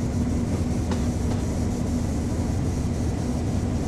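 A train in Train Sim World: West Somerset Railway runs on the track with a steady, loud rolling rumble and a low hum. A couple of faint clicks sound from the rails, and there is no speech.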